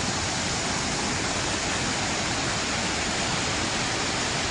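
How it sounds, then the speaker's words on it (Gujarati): The Jamjir waterfall in full monsoon flood after heavy rains roars as a dense, unbroken wash of rushing water, loud and close, with no voices. "જમજીરના ધોધનું વિકરાળ રૂપ"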